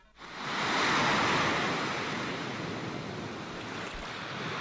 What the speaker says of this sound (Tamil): கேட்டியா, இந்த கடல் அவ்வளவு சத்தம் போடுது